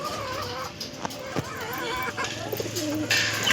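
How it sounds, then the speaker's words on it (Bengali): Several pigeons coo in low, throaty, repeated calls close by, overlapping one another against a busy background murmur, with a brief higher chirp near the end. "সব পায়রাগুলি ডাকাডাকি করছে।"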